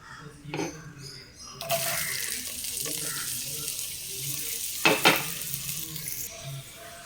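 Chopped onion, tomato, ginger and green chilli drop into hot oil for a fish masala and burst into a loud, steady sizzle, with a couple of stirring scrapes and clatters partway through.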